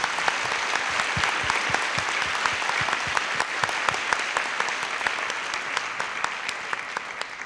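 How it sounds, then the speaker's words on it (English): An audience at an International Young Physicists' Tournament final round applauds the competing teams, a steady burst of many hands clapping that fills the room and slowly thins toward the end. "can we applaud all three teams for their, their, their wonderful effort in this first stage?"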